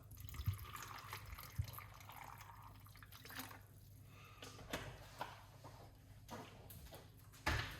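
Water poured into a container holding pineapple skins for a homemade drink, a faint trickling, dripping pour running quietly through the whole stretch with a few small clinks.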